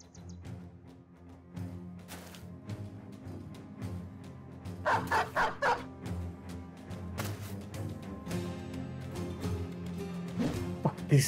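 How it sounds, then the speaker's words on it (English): A wardog barking during a battle in the game Battle Brothers with the Legends mod, several sharp barks mixed among game combat noise, moderately loud. "A wardog, a few bandits. The wardog is a problem."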